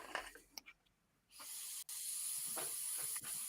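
A rebuildable tank vape atomizer gives off a steady, airy hiss with a thin high whistle during a long draw, following a few brief clicks and rustles, close and moderately loud.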